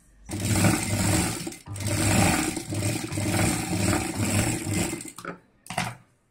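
A sewing machine stitches a six-inch zipper onto non-woven fabric for a handbag, running in loud, rapid whirring bursts separated by brief pauses, ending with a few short stops and starts.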